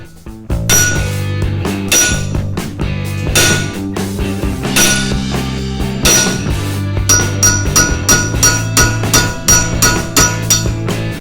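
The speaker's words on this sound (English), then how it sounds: "I went ahead and hit this thing, both of these screws here with a hammer a few different times" The ball end of a hammer strikes stuck brake rotor screws again and again, producing loud, close metallic clangs that ring out, some strikes spaced apart and others quick and rhythmic.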